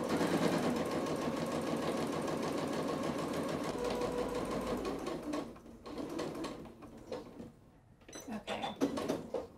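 A sewing machine stitches quilted slipper fabric across the sole in a fast, steady close whir, then runs in shorter stop-start bursts near the end.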